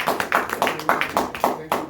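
A church congregation applauding the Lord, rhythmic group clapping in a steady beat of sharp claps, close and loud with no talk.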